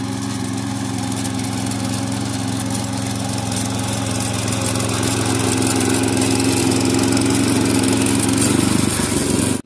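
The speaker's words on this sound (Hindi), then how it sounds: "यहाँ पे देख सकते हो हर यहाँ पे जुताई हो रहा है" A ploughing machine working a village field, its engine droning steadily and loudly at close range throughout, with a slight rise in roughness near the end before cutting off.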